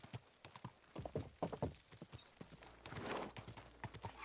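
Horse hooves trot in Kingdom Come Deliverance 2, a steady run of sharp clip-clop beats close to the listener with brief pauses, then picking up again toward the end.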